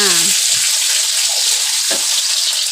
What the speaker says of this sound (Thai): ไปทอดลูกชิ้นให้สุกก่อนค่ะ ตามด้วยเนื้อหมูใส่เข้าไปจ้า